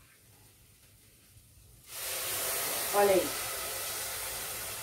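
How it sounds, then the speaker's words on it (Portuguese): Hot water poured into a pan of rice for Greek-style rice, bursting into a loud steady hiss that starts suddenly and holds, with a brief louder sputter partway through and a voice speaking briefly. "vamos acrescentar a água"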